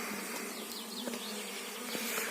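A honeybee swarm buzzing steadily near a beehive: a dense, continuous drone with individual bees whining past close by. The swarm is quiet overall, and no voices are heard.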